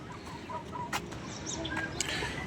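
Egg-laying hens clucking softly in a steady farmyard ambience, with a few brief sharper bird calls and light rustling throughout.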